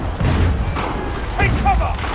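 Enemy gunfire and cannon fire in Assassin's Creed III, heard as dull booms and thuds rumbling low under constant shouting voices.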